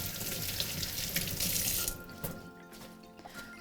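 Fresh basil leaves rinsed under a running kitchen tap: a steady, fairly close rush of water lasts about two seconds, then the flow shuts off, leaving a few faint drips and quiet handling sounds. No one speaks.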